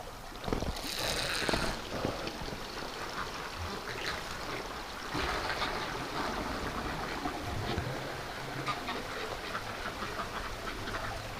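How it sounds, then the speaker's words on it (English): A steady, rushing hiss of a hose spraying water onto ducks, loud and continuous, with the ducks quacking now and then nearby. "let's give the ducks a blast of water here"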